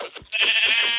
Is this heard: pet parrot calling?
no